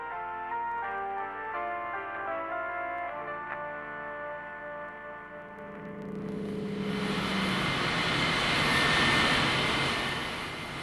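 Engines of a Vickers Vimy biplane building from a steady droning hum to a loud, broad roar as it powers up for takeoff, with no voices over the engines.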